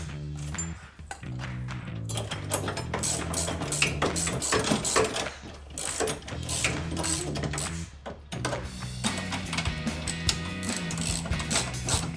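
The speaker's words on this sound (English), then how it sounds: "Connect the two brackets together with our 10mm bolt." A hand ratchet turns a 10mm bolt joining two step bar support brackets on a Jeep Gladiator, a steady run of close, loud mechanical clicks over background music.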